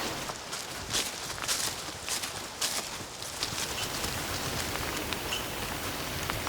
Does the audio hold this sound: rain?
yes